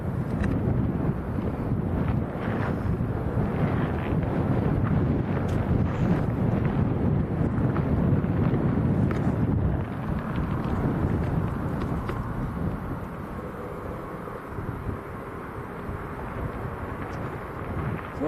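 Strong crosswind buffeting a microphone at Lanzarote Airport, a loud, steady roar of wind noise with gusting rumble throughout, easing slightly toward the end.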